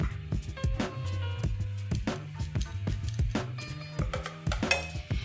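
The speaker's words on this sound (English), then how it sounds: "you're just gonna keep stirring them until the sauce has reduced and also thickened" Chicken in a garlic-ginger teriyaki sauce being stirred in a pan over medium-low heat, with repeated close clinks and scrapes of the utensil against the pan over a low bubbling hum, with no talking.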